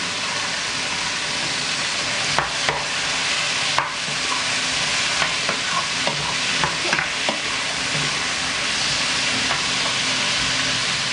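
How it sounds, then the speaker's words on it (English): Shrimp and onion sautéing in a pan, a steady frying sizzle with occasional sharp clicks and scrapes of a utensil stirring, close and continuous with no talking. "Just saute it until the shrimp turns pinkish or red."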